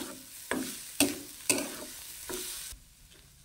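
Grated coconut roasts in ghee in a pan over low heat, with a few sharp stirring scrapes and clinks of a spoon over a soft, steady sizzle, heard alone and close.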